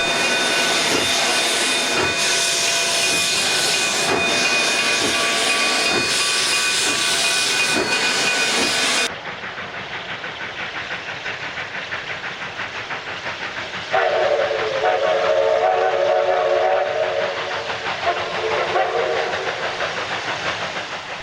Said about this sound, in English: The story is one of coal-fired steam engines heading up the daily tourist trains